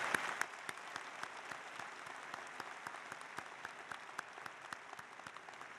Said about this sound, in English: Another round of applause for our commencement speaker, Tom Blue.